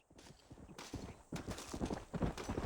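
Rapid hoof clip-clops of a horse trotting in the video game Red Dead Redemption, rhythmic and fairly close, with a brief pause before the pattern resumes and grows louder.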